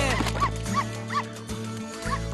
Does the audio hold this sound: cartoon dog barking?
yes